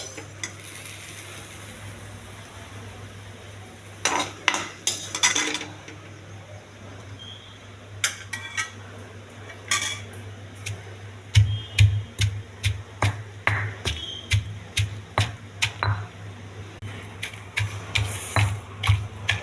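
Raw mango chutney being pounded in a stone mortar, a steady series of sharp, close knocks and grinding clatters over a low constant hum, with a few scattered taps early before the rhythmic pounding settles in.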